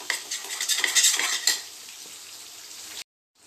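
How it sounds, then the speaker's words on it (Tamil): Ginger garlic paste with a little yogurt sizzles in a pan for soya chunk biryani while a metal spoon scrapes and clinks busily against the pan, close up, then the stirring stops and the sizzle fades to quiet. "1 ஸ்பூன் போட்டு சேர்த்து வதக்கிடுங்க."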